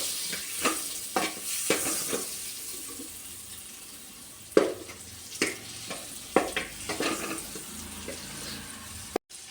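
Butter melts and sizzles in a kadai still used from frying vegetables, as the base for a white sauce pasta. A soft hissing bed is broken by scattered clicks and scraping taps, with one louder knock midway and a sharp click near the end.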